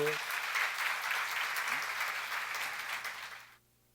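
Church congregation applauding during a sermon on the Psalms, a sustained wash of clapping that holds steady and then cuts off abruptly near the end.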